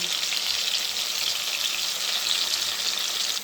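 Potatoes fry in a pan in a home kitchen, giving a steady, close hiss of oil sizzle that holds constant throughout with no voices.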